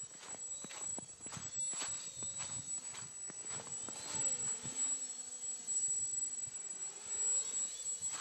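A small drone flies past outdoors and banks into a turn, its steady high whine shifting in pitch over a background of footsteps and distant voices.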